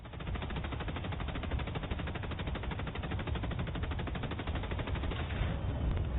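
Video game gunfire sounds as a rapid, unbroken automatic burst, with rounds rattling off in a tight, steady rhythm from start to finish.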